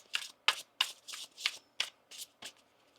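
A deck of tarot cards is shuffled by hand in a quiet room, about nine crisp riffling bursts in an even rhythm, close and clear with no talking.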